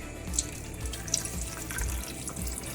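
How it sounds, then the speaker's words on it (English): Water stock pours into a pot of Louisiana seafood gumbo, a steady close splashing stream with a few brighter drips and no voices. "I'm going to start adding our water, our stock."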